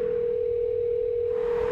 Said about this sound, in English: We tried getting a hold of her by phone.